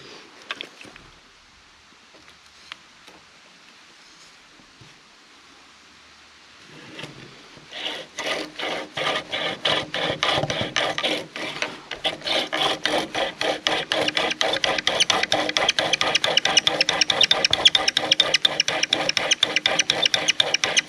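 Wooden bow drill worked to make fire by friction, quiet at first and then a rapid, rhythmic back-and-forth rasping of wood on wood that grows steadily louder and faster, close up and with no talking.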